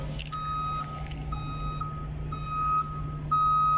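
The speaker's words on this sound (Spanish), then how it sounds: "Hay un camión aquí detrás que está haciendo mucho ruido." Behind the camera a truck reverses, its backup alarm repeating steady, evenly spaced beeps over a low engine drone, moderately close and alone.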